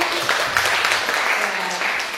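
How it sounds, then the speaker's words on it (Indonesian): Audience at a public lecture on innovative product design and business incubation applauds to welcome the speaker, sustained crowd clapping with a voice faintly present beneath it. "Tepuk tangan dulu."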